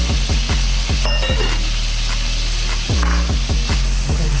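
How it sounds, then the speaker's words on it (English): Onions sautéing in melted butter for broccoli cheddar soup, a loud steady sizzle mixed with a run of quick clicking, ratcheting knocks against the pan, close up with no voices. "Saute them for a few moments until they become translucent"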